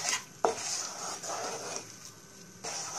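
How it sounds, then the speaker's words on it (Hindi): Besan burfi mixture with milk powder and sugar being stirred in a pan over medium flame, a soft continuous scraping with one sharp utensil clink near the start, quiet and close with no talking. "और लगातार इसे मिक्स करते रहेंगे आप"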